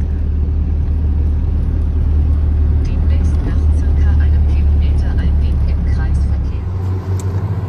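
A vehicle drives past burnt autumn fields, its steady engine and road rumble droning loud and close throughout, with a brief shift near the end.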